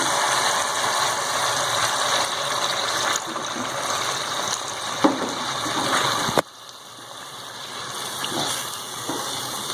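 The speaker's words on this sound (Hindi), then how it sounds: "पानी ऐड कर दिया हमने।" Water goes into a hot cooking pot of oil and green chilies for chana dal. It makes a loud, steady hiss and sizzle that drops sharply partway through, then settles into a softer simmer.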